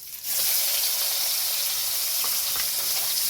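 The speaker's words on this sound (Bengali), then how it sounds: "পেঁয়াজটাকে লাল করে ভেজে নেব" Sliced onions hitting hot oil with dried red chillies, bay leaves and whole cumin, bursting into a loud, steady sizzle that hisses on close by without pause.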